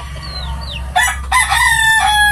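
A rooster crows once on a backyard poultry farm with many chickens kept. The crow is loud and close, with soft chirps before it and steady low background hum throughout.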